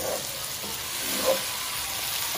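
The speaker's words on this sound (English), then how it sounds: "I just use a few tablespoons of regular vegetable oil to actually saute all of these vegetables" Peppers sautéing in a few tablespoons of vegetable oil, a steady close sizzle and fry with a faint stir-like tick midway.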